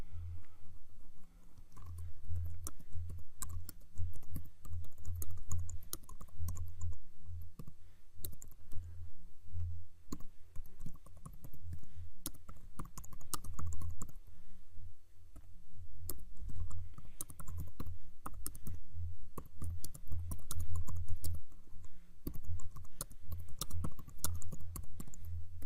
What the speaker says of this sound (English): let's type this up